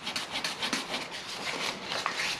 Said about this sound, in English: I'm just using a very fine sandpaper.